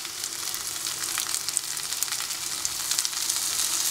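Onions sauté in a pan for milagai kuzhambu with a bright, crackling sizzle full of quick popping spits that grows slightly louder over a few seconds, heard close up without speech.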